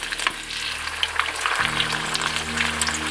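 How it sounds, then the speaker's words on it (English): Korean cheesy corn dogs fry in a pan of shallow, overly hot oil, giving a loud, dense, continuous crackling sizzle close by over a low steady hum. "I'm just going to fry them up and hope for the best"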